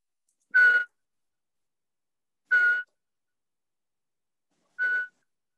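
A person whistles an imitation of a pygmy owl call: three short, evenly spaced single-pitch notes about two seconds apart, clear and alone against silence.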